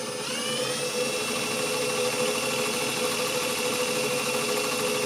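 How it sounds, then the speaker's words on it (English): A car alternator spins on a bench test as its pulley is turned, producing a steady, loud, close whirring whine with a high tonal hum that holds constant throughout, with no voices. "So I'm going to start spinning the pulley."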